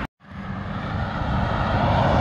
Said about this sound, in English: As I'm driving the tractor over this,